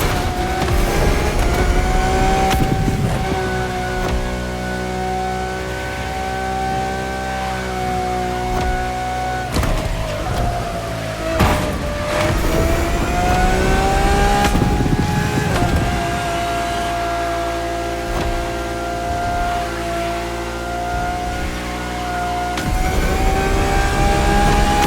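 A Lamborghini engine revs and drones while driving, loud and continuous, its pitch rising and falling with several sharp throttle changes and brief revs across about 25 seconds.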